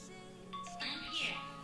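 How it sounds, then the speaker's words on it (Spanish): A smartwatch find-phone feature sets off a bright ding-like chime on the paired phone, a short electronic notification tone heard close and alone. "ya en el teléfono nos suena como esta notificación o ese sonido más bien"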